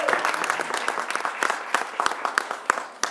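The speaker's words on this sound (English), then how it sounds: "Let's give yourselves a round of applause." Audience applause at a governor's public safety announcement before business council members and local business owners, a steady wash of many hands clapping with a few sharper individual claps standing out, fairly close and sustained throughout.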